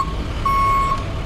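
A bucket truck's reversing alarm sounds three evenly spaced beeps at a traffic light installation in Oxford, loud and clear over a low engine rumble.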